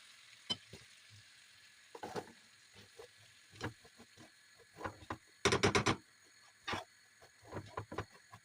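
Shredded kadayif pastry crackles in melted butter in a pan, with irregular close pops and rustling bursts, one longer crackling stretch in the middle, over an otherwise quiet background.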